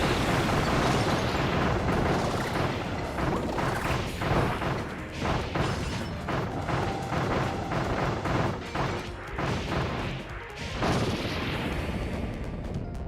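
Cannons fire in the video game Kirby and the Forgotten Land, a loud run of heavy booming blasts and crashes that overlap almost without pause for the whole stretch.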